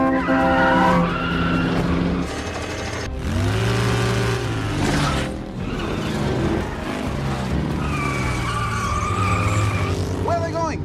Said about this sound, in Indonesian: Untuk mengejarnya, Dom mengaktifkan nosnya